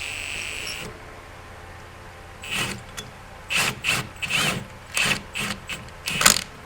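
A 3/4-inch impact wrench snugs a 3-inch wheel stud into the flange of a Dana 60 rear axle. After a quiet start, a run of short, loud, rattling bursts comes close by, with a thin motor whine riding on them.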